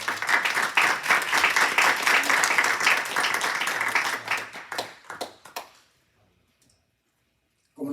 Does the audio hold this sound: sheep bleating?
no